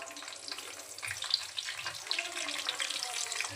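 Onions frying in a pan for kobbarannam, a close crackling sizzle with light spattering and stirring, fairly quiet and without talk.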